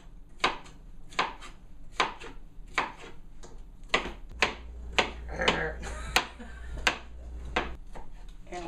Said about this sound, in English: So I'm chopping my cucumber